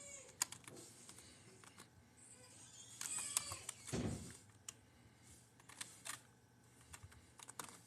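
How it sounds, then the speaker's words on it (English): Keys on a computer keyboard clatter in quick irregular bursts, close and fairly faint, with a few louder knocks among the tapping. "Typing it in right now."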